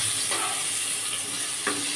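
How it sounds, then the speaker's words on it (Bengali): Eggplant slices fry in hot oil in a pan with a steady, close sizzle, broken by two soft scraping knocks as the slices are carefully turned over. "বেগুনগুলো দিয়ে দিলাম। এক পিঠ ভাজা হয়ে গেছে। এবার আমি উল্টে নেব অন্য পিঠগুলো।"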